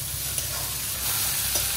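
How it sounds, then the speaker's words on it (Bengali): Spatula stirring banana-flower ghonto while fish jhal fries in separate pans: a steady, close sizzle with soft scraping strokes running throughout. "মোচার ঘন্টা একদিকে করছি আর একদিকে খোলা মাছের ঝাল করছি। দুদিকেই খুন্তি চলছে।"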